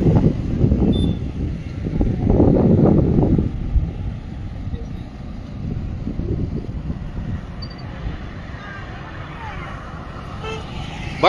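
Vehicle approaching on a road at Manchar, with a loud horn toot early on followed by continuous engine and traffic rumble that stays fairly close throughout.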